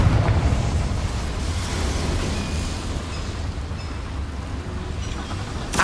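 A deep rumbling blast from the Confringo fire spell in Hogwarts Legacy, loud at the start and rolling off into a low sustained roar with faint crackles.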